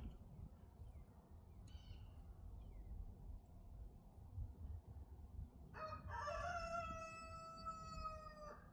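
A rooster crows once, loud and drawn out, after several seconds of low rumbling background noise.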